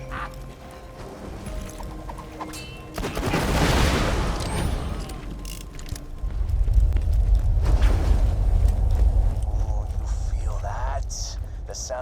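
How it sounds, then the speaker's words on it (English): Deep rumbling swells roll in twice in Borderlands 2, low and heavy earthquakes from drills nearing a vault, with a burst of crunchy noise in between and a voice talking over it. "Those earthquakes marks my drills getting closer and closer to the vault."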